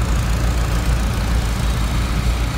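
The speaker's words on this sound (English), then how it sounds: "Here are all the tractors out here running, covered in snow" Several tractor engines idle together outdoors in the snow, a steady, dense low rumble that continues without a break and has no talk over it.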